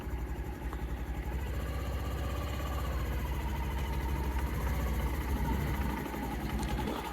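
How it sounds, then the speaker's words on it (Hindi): A motorcycle engine idles steadily close by, a continuous low chugging rumble with a regular throbbing pulse throughout. "बाइक का इंजन का आवाज़ धीरे होना शुरू हो जाता है"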